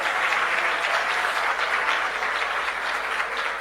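A church congregation claps hands loudly and continuously, a dense, even wash of applause filling the room without pause.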